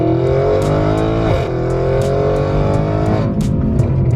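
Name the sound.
800HP Audi RS7 accelerating hard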